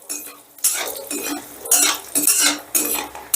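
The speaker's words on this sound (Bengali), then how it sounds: "এবার বড়িগুলোকেও বেশ লাল লাল করে ভেজে তুলে নেব।" Lentil vadi dumplings fry in hot oil in a pan until reddish, stirred with loud, repeated metal scraping strokes against the pan over a faint sizzle.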